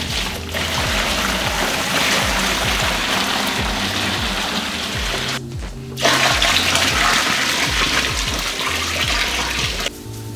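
Hot water runs hard from a tap in a steady, loud rush, with a rhythmic low thumping underneath and a brief break near the middle before the flow resumes.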